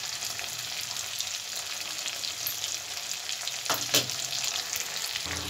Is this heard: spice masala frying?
yes